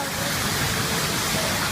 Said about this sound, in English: This waterfall is so big.